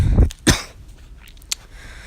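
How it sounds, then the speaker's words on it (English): A single abrupt cough, close and sharp, followed by a short second burst and a faint breathy sound, with no talk. "that cough just came out of nowhere"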